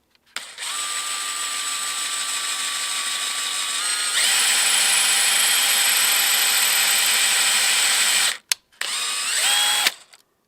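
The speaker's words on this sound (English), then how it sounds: "I'm going to drill a little hole in the end of this bone here" A power drill whines steadily at close range, boring a hole in the end of a bone handle, its pitch shifting upward as it bites, then stops briefly and spins again for a short final burst.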